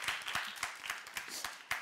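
A quiz show studio audience claps in a brisk, uneven patter, fairly faint and without cheering.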